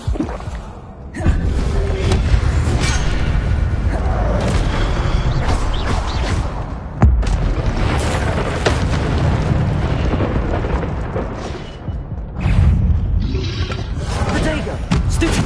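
Incendio fire spell cast in the video game Hogwarts Legacy, loud whooshing bursts of flame and booming impacts over continuous dense battle noise, with sharp hits marking new casts.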